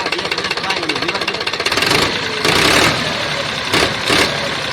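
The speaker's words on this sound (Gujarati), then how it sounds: "એન્જિન પાવરફુલ છે, આખું એન્જિન બનાવેલું છે" A Powertrac 439 tractor's diesel engine, rebuilt with new rings and pistons, idles with a rapid, knocking rhythm, loud and close, with brief bursts of added noise and no clear speech.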